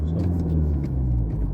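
A manual car's engine rumbles low and steady as it pulls slowly forward in first gear during bay parking practice, close and continuous with no talk.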